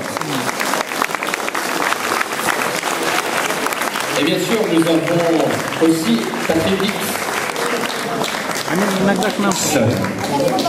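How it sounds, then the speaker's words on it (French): Audience clapping at a local charity event, sustained applause from a crowd running throughout while someone speaks into a microphone over it. "Vous pouvez les applaudir très fort."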